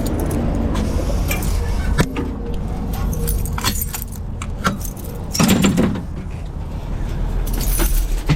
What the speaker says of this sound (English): Let's find some keys.